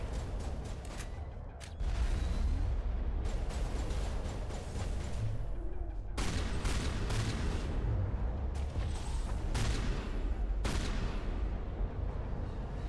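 Repeated sci-fi gunfire bursts and booms from a Mass Effect firefight, loud and dense, with several sharp cracks separated by short pauses.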